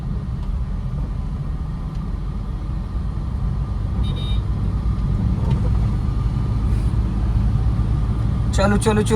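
A car's engine hums and rumbles steadily while driving on a road, rising gradually in loudness as it picks up speed, with a man giving driving instructions over it.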